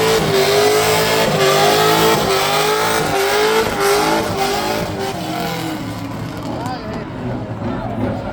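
Moti Biton's number 36 drift race car, a V8 LS-engined build by Yossi Drift Performance, revs hard at a competition, its loud engine note climbing and falling continuously with tire noise and a voice over it.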